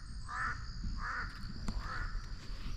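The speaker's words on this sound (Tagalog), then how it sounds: "Kanina ba tayo sinusundan ng uwak?" A crow in a pine forest gives three harsh caws at steady intervals, moderately close and clear over quiet woodland ambience.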